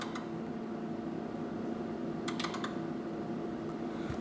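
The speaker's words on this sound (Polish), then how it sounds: "Dajmy mu jeszcze na koniec auto scale i posłuchajmy, jak pięknie klikają nam tutaj przekaźniki." An HP 54540A oscilloscope runs auto scale, and its internal relays click in a quick cluster of four sharp clicks at about 2.3 to 2.7 seconds. A few fainter clicks come at the start and end over a steady fan hum.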